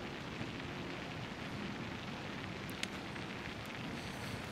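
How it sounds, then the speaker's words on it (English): Rain moving in within the video game Sim Airport, a soft, steady hiss of rainfall, faint and continuous, with a couple of light ticks. "ooh, rain's moving in."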